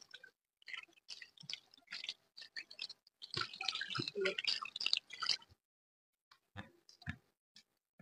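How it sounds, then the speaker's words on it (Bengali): Water splashing and dripping as hands are washed during ablution, quiet irregular wet squishes and drips in bursts with short pauses, close and soft. "এবং তারপরে হাতগুলোকে ভালো ভালো করে ধুতে হবে, দুইটা হাত তিনবার করে আপনারা ভালো করে ধুবেন।"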